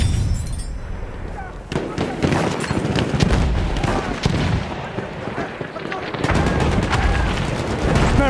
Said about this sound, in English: There's an enemy machine gun!